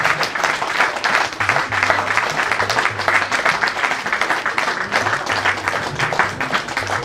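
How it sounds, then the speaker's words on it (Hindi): Loud, sustained applause from an audience at a Yoga Day program in Indore, dense and continuous for the whole stretch, with a low steady hum underneath. "जोरदार तालियों से स्वागत करें, अभिनंदन करें"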